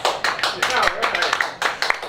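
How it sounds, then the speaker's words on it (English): A small staff group at a devotional gathering claps in loose, uneven bursts, sharp close claps rising and falling, mixed with voices talking over them. "Applause."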